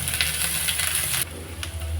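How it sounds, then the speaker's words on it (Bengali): Chopped onions and green chillies fry in hot oil in a pan, giving a steady close sizzle with faint crackles throughout and a slight shift in tone partway through. "পেঁয়াজটা হালকা করে একটু ভেজে নেব।"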